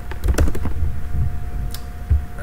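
Rapid clicking keystrokes on a computer keyboard as code is typed, a close, uneven run of taps over a faint steady hum.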